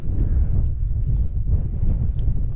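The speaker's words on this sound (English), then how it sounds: "That wind's cold wind." A cold westerly wind gusts across an open wild-camp spot in June, buffeting the microphone with a loud, rumbling low roar that surges and eases without pause.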